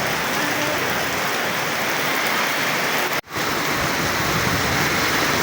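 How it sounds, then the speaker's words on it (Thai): Heavy midday rain falls on surfaces along a street in Surat Thani, Thailand, a loud, unbroken, dense hiss with one brief dropout partway through. "โอ้ฝนตกอีกแล้ว"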